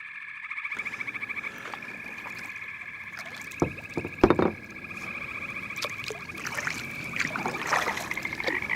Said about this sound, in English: Give one last paddle stroke and glide on through, right over the rocks.